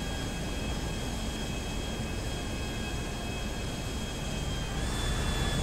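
A steady, even engine drone fills an airplane cabin in Grand Theft Auto V, a constant broadband hum with no voices, holding level throughout with a slight brightening near the end.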